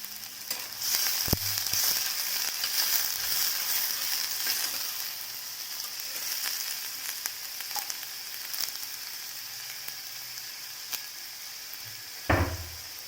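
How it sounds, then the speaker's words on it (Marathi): Onion fries in hot oil with a steady hissing sizzle, close and continuous, punctuated by a couple of sharp utensil knocks. "एक चिरून घेतलेला कांदा लालसर होईपर्यंत भाजून घ्यायचा"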